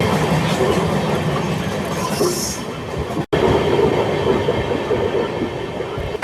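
The Ratnachal Express, running its first trip with new LHB coaches between Vijayawada and Visakhapatnam, rumbles loudly at high speed on the tracks, with steady wheel clatter and a brief squeal, heard from inside.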